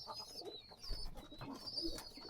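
Soft pigeon cooing repeats a few times at close range over faint background noise, with no voices present.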